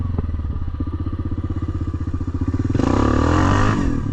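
A quad ATV engine chugs in a rapid, throbbing idle, then revs louder and higher as the wheels spin in mud, close and dominant throughout.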